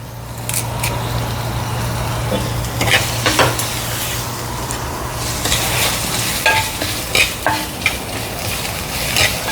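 Curry leaves sauté in a little oil in a clay pot for crab rasam, a steady loud sizzle with occasional scraping stirs and clinks throughout.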